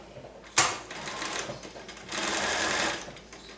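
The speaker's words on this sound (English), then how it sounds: "Did I tell you this is one of my Berninas? It's a Virtuoso 155." A Bernina Virtuoso 155 sewing machine stitches fabric up close, starting with a sharp click and then giving rapid, even mechanical chatter in two bursts with a short pause between them.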